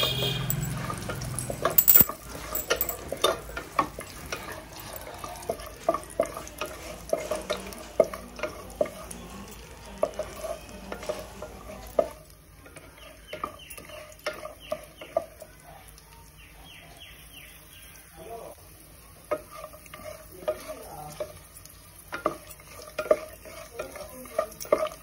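Dry fruits frying and being stirred in a pan, with soft sizzling and frequent light clinks and scrapes of a spoon on metal, close up; the clinking slows in the second half.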